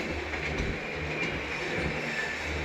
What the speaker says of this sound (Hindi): और दोनों ही ट्रेनें अपनी स्पीड से चल रही हैं